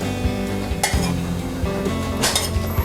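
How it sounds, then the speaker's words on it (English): Melted candle wax being stirred in a pot, a utensil clinking and scraping against the metal sides in quick repeated strokes, close and fairly loud over a steady background hum. "I'm gonna quickly stir it because I don't want it sitting for too long."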